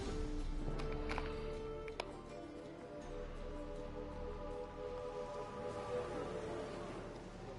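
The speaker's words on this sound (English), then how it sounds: "As I'm not at sea, let it rain" Rain in The Witcher 3: Wild Hunt, a soft continuous patter with scattered drops, faint and steady beneath tonal game sounds and a few brief clicks.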